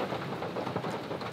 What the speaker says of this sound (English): And now it's pouring down rain again.